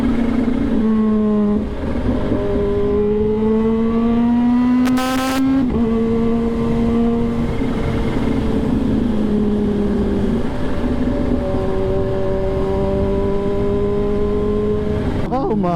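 A motorbike ridden fast in light drizzle on the way to an event, its engine whining and shifting pitch in long rising sweeps close by, with wind noise throughout.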